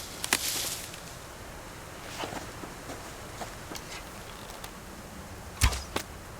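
An arrow loosed at a chicken in the survival game Subsistence: two or three sharp, brief whooshing releases with thin impacts, well spaced across a quiet outdoor ambience, the loudest near the end.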